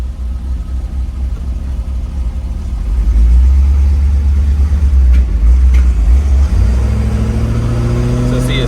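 A 1965 Chevrolet Impala engine drones low and steady while driving, the rumble swelling louder midway as the car pulls along, with brief faint talk over it.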